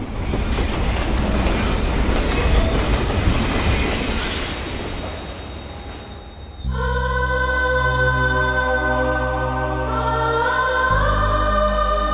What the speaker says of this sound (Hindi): यार, इस ट्रेन को भी इसी वक्त आना था।